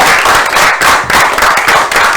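An audience claps for the Institut de la Gombe A team, a close, fairly loud burst of rapid, uneven hand claps.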